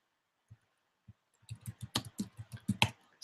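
Keys on a computer keyboard click softly, two isolated taps followed by a quick run of typing, faint and close in a quiet room.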